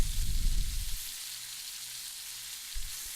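Pork shoulder pieces browning in a hot pan give off a loud, close, steady sizzle, with a brief burst of louder spattering at the start and again near the end.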